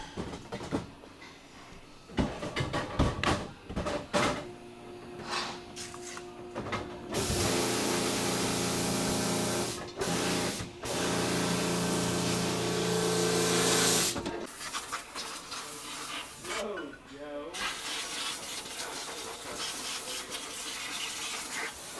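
Compressed air blasts excess off a 2016 Volkswagen Tiguan valve cover, a loud broadband hiss lasting several seconds, followed by a shorter burst, amid intermittent workshop clatter and handling noises.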